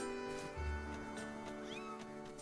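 A cat meows in the Zelda Skyward Sword video game, short and close, sounding over a steady bed of game music that runs through the whole moment.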